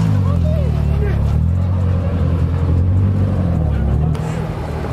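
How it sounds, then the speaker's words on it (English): Car engines rumble and idle nearby at a packed car meet, including modified and lowered cars, in a continuous loud drone, with voices murmuring underneath. "It is hella cars here."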